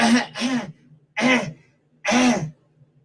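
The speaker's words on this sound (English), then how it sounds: "Someone's there coughing." Four harsh, throaty coughs in quick succession, close and fairly loud, with short pauses between them.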